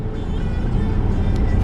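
Inside a car crawling through heavy Mumbai city traffic from Goregaon toward Bandra, a steady low engine and road rumble fills the cabin, close and constant.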